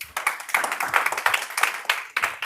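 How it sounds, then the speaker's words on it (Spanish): An audience claps to welcome economist Chantal Beno, a short burst of sparse, uneven claps from a modest crowd close by, with no voices heard. "Un aplauso,"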